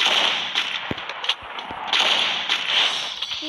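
Gunfire in the mobile shooter Free Fire comes as sharp, whip-like cracks, several spaced shots over a dense, noisy game soundscape, loud and close.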